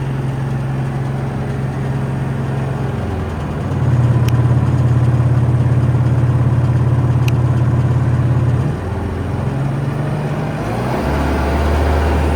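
Diesel engine of a Vögele SUPER 800-3i compact tracked asphalt paver running close by, a loud steady drone that rises in pitch and load for several seconds, then settles and shifts lower near the end, with two faint clicks.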